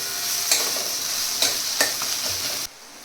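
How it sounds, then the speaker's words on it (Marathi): Tomato and onion frying in oil for a mint egg bhurji, a steady bright sizzle with three sharp stirring scrapes, cutting off abruptly near the end. "इथे छान मस्त आपला टोमॅटो आणि कांदा या तेलामध्ये छान फ्राय झालेला आहे"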